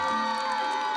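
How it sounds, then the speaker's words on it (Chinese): An audience at a vocational school fashion show student showcase screams and cheers, a brief, loud burst of high-pitched crowd shrieking that holds steady and fills the space. "现场气氛超嗨，尖叫声不断。"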